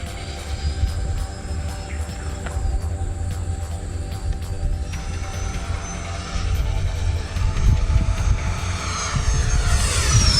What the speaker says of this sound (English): let's go ahead and be fair and do a full speed pass with the Gripen right above the